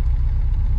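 A cold Subaru Impreza 2.5 RS engine idles while misfiring on three of its four cylinders, giving a close, steady low rumble with an uneven, lumpy pulse that runs throughout.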